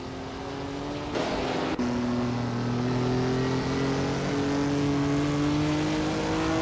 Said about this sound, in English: Morning Starsel is leading in a 1956 Maserati 450S, which is known for its speed and agility